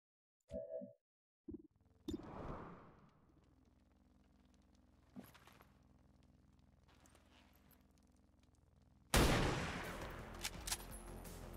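XCOM 2 soldier firing a weapon: a few short sharp shots early on, then a quiet stretch with faint tones and a single tap, before a loud burst of dense crackling gunfire near the end.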